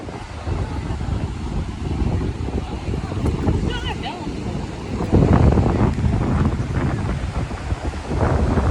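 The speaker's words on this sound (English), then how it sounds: "today is very windy and cloudy" Strong wind gusts buffet the microphone steadily on Pompano Beach fishing pier, with surf rumbling underneath and faint voices in the background.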